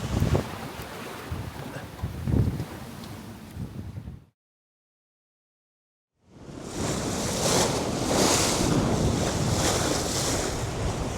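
Strong wind of over 20 knots roars over the microphone with waves washing around an aluminum sailboat at sea, cutting to silence for two seconds before returning louder.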